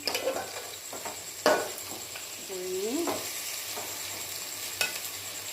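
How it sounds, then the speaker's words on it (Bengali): A spoon scrapes and knocks against a pan of frying food over a soft, steady sizzle, with a few sharp clanks and a brief murmuring voice in the middle. "আর একটু নাড়াচাড়া করে নেবো"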